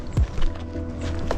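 Horse hooves clip-clop on a street in a city in Liberia, a few close hoof strikes in a brief moment amid outdoor ambience and a faint voice.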